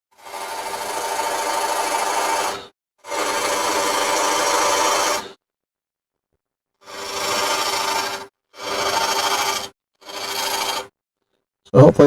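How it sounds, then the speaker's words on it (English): A 1/2-inch gouge cuts a dry bowl blank spinning on a wood lathe, giving five loud, harsh scraping passes of one to two and a half seconds each, separated by silent pauses. "I'm using a 1/2-inch gouge"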